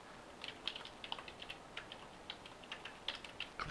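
Light, quick keystrokes on a computer keyboard as a short phrase is typed out, faint close clicks in an uneven rhythm over a quiet room.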